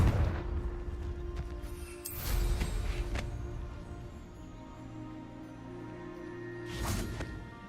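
Confringo blasting spell explosions in Hogwarts Legacy, several booming bursts over a low game soundscape, one early and another near the end.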